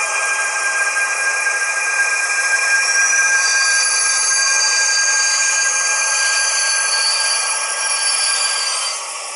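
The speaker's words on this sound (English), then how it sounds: "And a nice sound profile with the diesel electric." Onboard DCC sound from a Rivarossi HO DB DE18 model diesel-electric locomotive gives a loud, steady electric whine and engine drone with a rising tone that holds evenly throughout, easing slightly at the very end.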